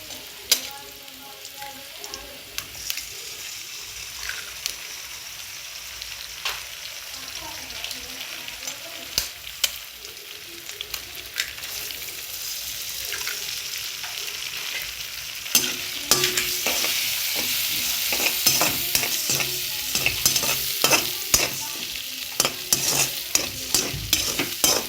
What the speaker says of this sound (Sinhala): දැන් අපි බිත්තර දෙක දාගමු.